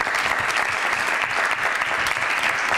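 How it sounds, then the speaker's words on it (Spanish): Steady, dense applause from an audience at a university employment-fair company panel, continuous and fairly loud from start to finish without pause. "yo creo que siempre un aplauso"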